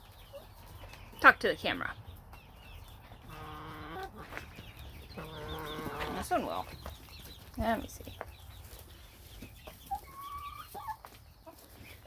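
Hens clucking and chattering nearby, with bursts of squawks rising and falling through the clip while a person talks to them over the top.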